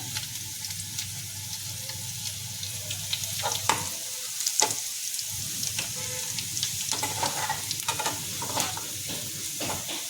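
Garlic and cumin fry in oil for a dhaba-style arhar dal tempering, giving a close, constant sizzle under irregular stirring clatter and a few sharp taps of a spoon on the pan.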